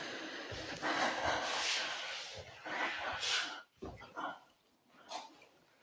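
Bear, a puppy, snorts and breathes heavily in several short bursts, with a few soft bark-like huffs up close and quiet gaps between them.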